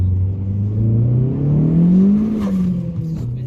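A car on freshly fitted Toyo Proxes R888R tires accelerates hard, its engine note rising steadily then easing, with tire spin whirring under the revving for a few seconds, close and loud.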